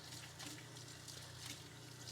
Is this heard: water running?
yes